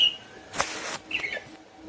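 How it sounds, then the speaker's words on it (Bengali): Bulbul birds calling near their nest at a house, with two brief, thin chirps a short distance away and a soft rustling burst between them. "আমাদের বাড়িতে বুলবুলি পাখি বাসা করেছে"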